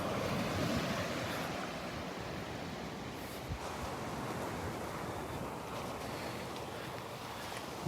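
Surf breaks and washes along a Gulf beach in North Naples, Florida, a steady broad roar with wind buffeting the microphone and no voices.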